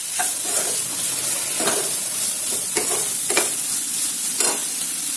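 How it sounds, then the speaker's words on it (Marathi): Maggi noodle masala cooks in a hot pan with a loud, steady sizzle, while a spoon stirs and scrapes against the metal in a few distinct strokes. "आणि मसाला पण छान आपण शिजवून घेऊया"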